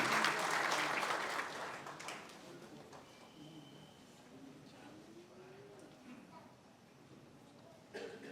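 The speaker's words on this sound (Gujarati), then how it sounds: "આવો તાળીઓ સાથે આ પુસ્તકનો પરિચય આપવા માટે આવકારીએ" An audience at a community book launch and felicitation gathering claps to welcome a speaker, a dense burst of applause that fades within about two seconds, leaving quiet room tone with a faint tone and murmur.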